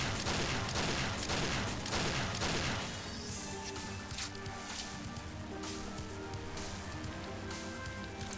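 Dense video-game gunfire from James Bond 007: Nightfire, with rapid overlapping shots and bursts sustained loudly throughout, heaviest in the first few seconds and continuing as a steady barrage of combat noise.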